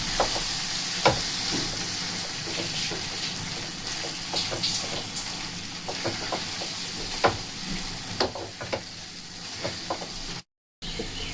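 A sweet jaggery mixture is stirred in a pan, with a low bubbling sizzle and scattered scrapes and taps of a spoon on metal, close and unhurried, with a brief cut to silence near the end.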